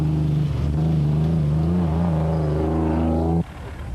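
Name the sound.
Nissan hardbody rally racing truck engine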